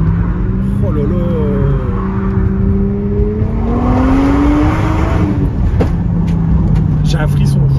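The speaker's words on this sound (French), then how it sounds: "J'ai l'impression que le turbo il charge tout de suite." Toyota Mark II Blit IR-V turbocharged station wagon accelerating hard, engine tone climbing in steady rising pitch from inside the cabin, with excited talk and exclamations over the continuous drone.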